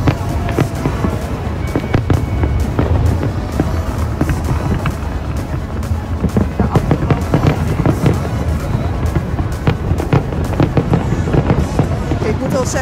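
New Year's fireworks and firecrackers bang and crackle nonstop, loud and close, with sharp overlapping blasts in a dense irregular barrage, while excited voices talk and cheer over them.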